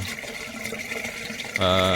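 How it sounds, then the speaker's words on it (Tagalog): Water from a hose splashes and trickles into a buried aquaponics drain of charcoal, soil and gravel, a steady close running flow that swells into a louder, fuller gush near the end. "itong hose na ito, ang tubig na binabagsak niyan, sa ilalim nagdadaan"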